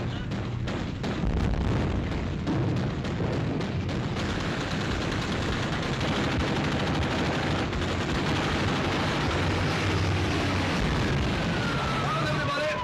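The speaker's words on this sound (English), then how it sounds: "Open fire! Shoot!" Ship's anti-aircraft guns firing on diving aircraft in a wartime naval battle scene, a loud, dense barrage of rapid gunfire and booms that continues throughout.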